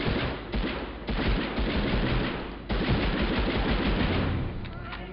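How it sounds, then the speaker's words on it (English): Sustained automatic machine gun fire in the PS1 shooter Medal of Honor, a dense, loud rapid rattle running almost continuously with a couple of brief gaps, close and alone without talk. "machine gun now."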